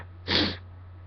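One short nasal sneeze from a person with a sore throat, close and fairly soft, forced out through the nose as a breathy burst over a low steady hum.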